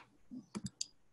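A computer mouse clicks three times in quick succession, faint and close, during remote screen control in an online presentation, with a soft muffled thump just before.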